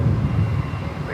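A fixed-wing airliner at San Francisco airport makes a loud, steady low engine roar close by, filling the whole moment without a break, with no talking.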